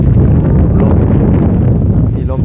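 Wind buffets the microphone outdoors at a rural home, producing a loud, continuous low rumble that fills the whole stretch and eases slightly at the end.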